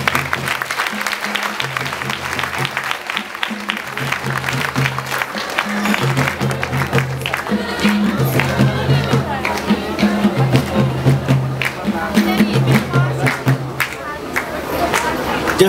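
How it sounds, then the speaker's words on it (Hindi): A congregation claps in steady rhythm to welcome visiting brothers and sisters from the Siliguri fellowship, a dense continuous patter of many hands blended with crowd voices and a low musical backing. "आइए हम इनके साथ ताल में ताल मिलाते हुए ताली बजाते हुए"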